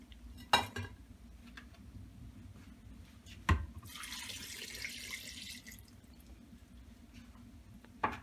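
Hot melted Crisco pours steadily over masa for a few seconds while making tamales, framed by a couple of sharp clatters of a pot or utensil.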